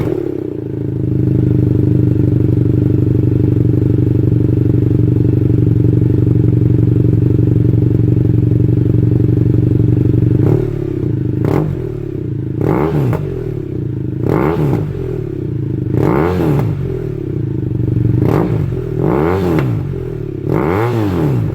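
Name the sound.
BMW F700GS motorcycle with DANMOTO carbon exhaust starting and revving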